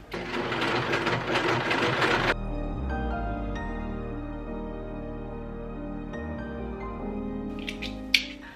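An overlock serger joins a dress bodice to its skirt in a loud burst of rapid stitching for about two seconds, then the machine winds down into a fading mechanical hum with a click near the end.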